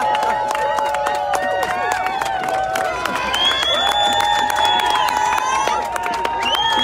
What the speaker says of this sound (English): I want to hear a big, long New York round of applause for every single organizer